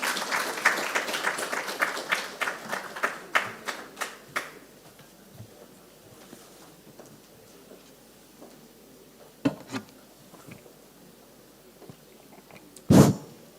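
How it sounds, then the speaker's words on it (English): A burst of scattered hand clapping from a small group fades out after a few seconds, followed by near-silence with a few isolated knocks and one louder thump. "Let's give him a round of applause as he comes."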